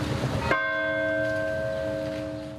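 A church bell in Orillia, Ontario rings in tribute to a singer, giving a loud struck tone that then hangs in a long, slowly fading resonant hum.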